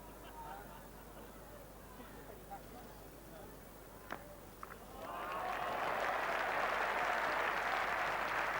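Crowd applause rises around Edgbaston cricket ground during a 1987 England v Pakistan Test match, a soft, distant swell of many clapping hands that builds midway and holds, following quiet murmuring and a few isolated sounds, with commentary heard before the swell.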